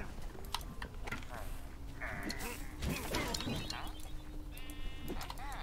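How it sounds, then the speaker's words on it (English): Sheep bleats from the video game Minecraft Dungeons, short game-style calls over busy background game sounds, music and combat effects, with a voice talking in the mix. "I took out a sheep"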